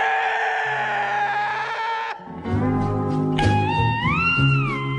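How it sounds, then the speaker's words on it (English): Film ending of La Bamba: a sustained, wailing yell holds for about two seconds, then a mournful electric guitar riff rings out with bending, sliding notes over low accompaniment, loud and close. "this film ends with that sad ass guitar riff / yell."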